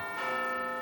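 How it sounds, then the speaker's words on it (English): A huge bell about two meters across rings from a large clock tower, one sustained metallic strike with a long humming tone that lingers through the short moment. "you can hear the bells ringing"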